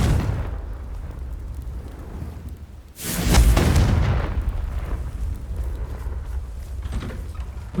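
A Confringo blasting spell from Hogwarts Legacy goes off as one loud, sudden explosion that booms and then rumbles away over a steady low background.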